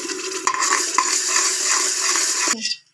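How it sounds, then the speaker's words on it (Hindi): Tomato paste goes into roasted flour in a pressure cooker, a loud steady stirring and scraping with a soft sizzle that cuts off abruptly near the end. "अब हम इसके अंदर ये टमाटर का पेस्ट डालेंगे"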